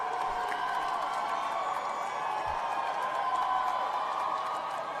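A large crowd at an MIT graduation ceremony responds with a steady, distant roar of cheering and scattered clapping, a continuous broad murmur that holds at even volume.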